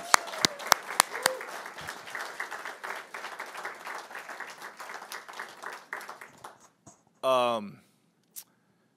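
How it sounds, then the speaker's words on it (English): Applause for Don Combs at a fashion show, a crowd clapping with loud sharp claps up front that taper off over several seconds, followed by a short burst of voice. "big round of applause for Don Combs"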